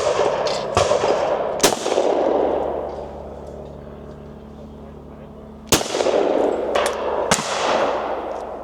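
Caesar Guerini shotgun fired at clay targets outdoors: several loud, sharp shots spaced seconds apart, each with a ringing decay, with faint talk between them.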